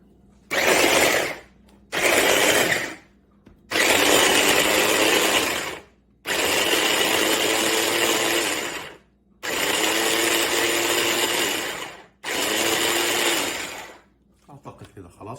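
A kitchen blender mixing ingredients for pickled eggplant with vegetable oil, loud whirring motor running in six separate bursts of one to three seconds each, stopping between pulses, with faint voice after the last.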